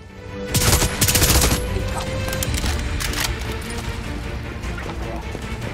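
Rapid bursts of automatic gunfire in the video game Far Cry 6, a dense volley early on followed by scattered shots and crackling under ongoing game noise, with someone speaking over it.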